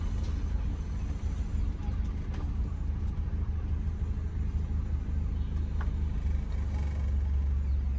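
A car engine runs steadily with a low rumble and hum during driving practice, a continuous mid-level drone with faint road noise and no clear talking.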